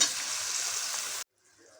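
Potatoes sizzle loudly in hot oil for just over a second, then cut off abruptly into near silence.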